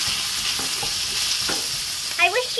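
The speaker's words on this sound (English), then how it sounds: "Bring in the stir frying! So that's onion and garlic." Onion and garlic stir frying in a pan for chicken cashew, a steady bright sizzle with faint scrapes of stirring and a couple of louder clinks near the end.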